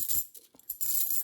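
Nickel coins clink and jingle against each other in a few quick, bright metallic bursts, close and fairly quiet, with no voices.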